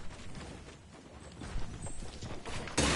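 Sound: footsteps above in a building, from a video game

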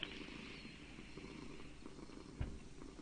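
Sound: Minecraft cat purring, from a video game

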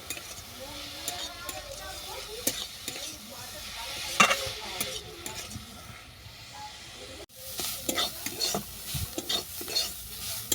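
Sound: stirring and frying cabbage in a pan

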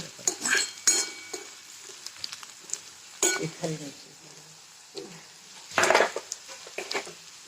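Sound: curry leaves and coriander stirred and frying in pan

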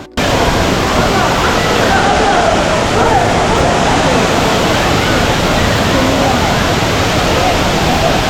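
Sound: waterfall

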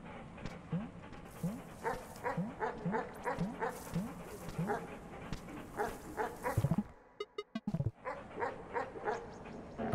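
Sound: dogs barking in the video game Animal Well

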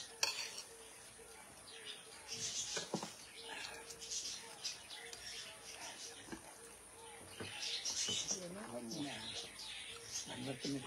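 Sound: bird chirping

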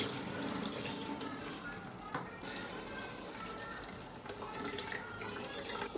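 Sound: rinsing rice and lentils in water

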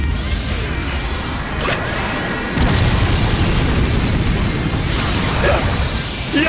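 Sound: Killer Queen's third bomb (Bites the Dust) explosion in Jojo's All Star Battle video game

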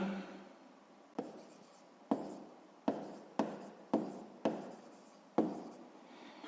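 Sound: writing down a math solution

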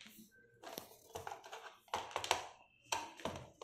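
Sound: opening computer keyboard from the back side

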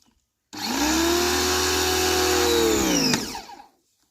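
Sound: 2E HPW2015 mini pressure washer running

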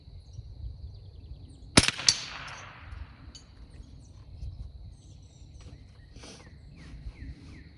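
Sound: rifle shot fired with CCI standard velocity ammunition

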